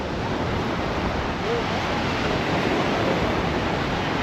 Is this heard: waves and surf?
yes